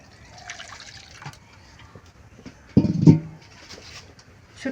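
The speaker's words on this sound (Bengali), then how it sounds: "এখন আমি গরম পানি দিয়ে ভালো করে ধুয়ে নিব।" Dried Bombay duck fish is rinsed with hot water in a village kitchen, giving one short, close splash and pour. Quiet dripping and faint handling noises come before and after it.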